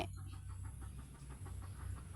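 Chickens clucking in short repeated bursts over a steady low hum, fairly close, with no voices, at a rural home in Isan, Thailand.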